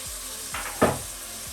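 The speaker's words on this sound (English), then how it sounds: "I'm gonna quickly add in 1 tablespoon of Chinese cooking wine." Pork belly sizzles in a hot pan as a tablespoon of Chinese cooking wine goes in, giving a short, sharp hiss that swells and fades within a second over a quiet kitchen background.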